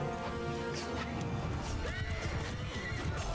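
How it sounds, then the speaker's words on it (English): In a Mount & Blade II: Bannerlord battle, several horses neigh loudly and hooves clatter in a dense, continuous crowd of cavalry, with clashing noise and faint talk underneath. "That's quite a few horses."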